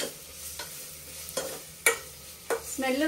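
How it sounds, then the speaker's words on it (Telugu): Ginger garlic paste frying in a pan with a soft background sizzle, broken by a few scraping stirs of the spoon and a louder crackle toward the end, no talking. "అల్లం వెల్లిగడ్డ పేస్ట్ మంచిగా వేసి అల్లం వెల్లిగడ్డ మంచిగా పచ్చివాసన పోయేంత వరకు ఎర్రగా కావాలి."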